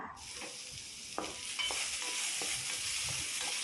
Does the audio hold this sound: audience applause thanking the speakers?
no